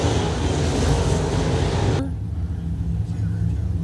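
Race cars speeding around an oval track during an evening race on a cool night. A loud, steady engine roar fills the air, then drops abruptly as the cars pass, leaving a lower rumble behind.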